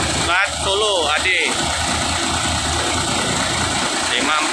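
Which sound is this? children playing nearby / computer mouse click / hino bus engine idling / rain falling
hino bus engine idling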